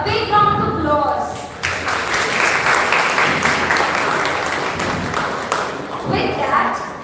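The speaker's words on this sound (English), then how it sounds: "let's give them a big round of applause." An audience at the NHITM Voice Unplugged talk series breaks into loud, sustained applause that swells and holds for several seconds, with a speaking voice briefly heard before and after the clapping.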